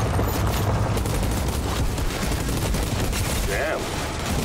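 A new gun fires in the Outriders game, sounding as a dense, continuous volley of loud rapid shots that barely lets up throughout, with no talk in between.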